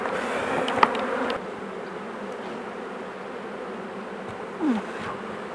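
Honey bees buzz densely around a hive during summer beekeeping work, a close, continuous drone with individual insects zipping past the ear, louder in the first second.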